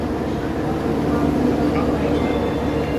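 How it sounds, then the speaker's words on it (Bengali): An AC double-decker express train at a station, its low rail rumble and a faint high wheel squeal running steadily, with a voice talking over it. "এটা হচ্ছে ডবল ডেকার ট্রেন।"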